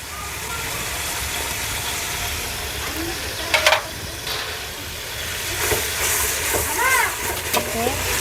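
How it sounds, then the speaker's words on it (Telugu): Green chillies, onion, ginger paste and tomatoes frying in oil, a steady broad sizzle running throughout with a voice talking over it. "ఇంకా పచ్చిమిరకాయలు ఉల్లిగడ్డ అల్లం పేస్టు ఇంకా టమోటాలు అయితే నూనెలో బాగా మగ్గుతున్నాయన్నమాట"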